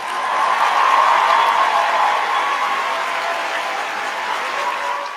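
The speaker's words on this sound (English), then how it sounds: "I'm going to give her a round of applause." Steady applause from a small audience on a livestream, continuous and fairly close for about five seconds, with no talking over it.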